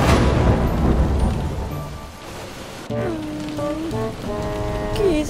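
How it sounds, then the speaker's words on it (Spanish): Steady rain falls in the Avatar World video game, a soft continuous patter that thins midway, with game tones and a brief voice-like sound over it near the end. "no para de llover"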